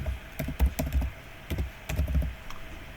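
A password is typed on a computer keyboard in two quick bursts of close, clacky keystrokes separated by a brief pause, then one last light tap.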